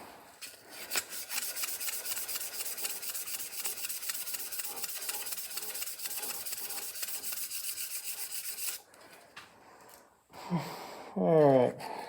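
Sanding pads rasp against a wooden pen in steady, fast back-and-forth strokes for several seconds, then a pause, a few short rubs, and a brief burst of sound at the end.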